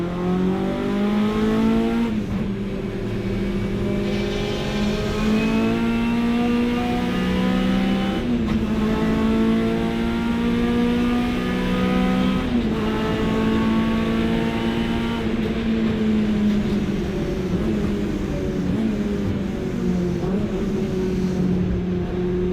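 Hot hatch race car in qualifying at Silverstone, heard from on board: a loud, continuous engine drone rising and falling through gear changes and throttle lifts, steady and close for the whole stretch with no talk.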